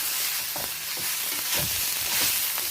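Chinese potato (koorkka) being stir-fried in a pan: continuous loud sizzling with several soft stirring scrapes through the mix, close up and without voices.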